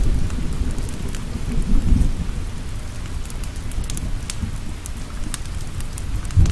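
Steady rain falls with low rumbling thunder through a storm, a continuous wash of drops over deep rolling rumble, with a louder thunder swell near the two-second mark and another at the end.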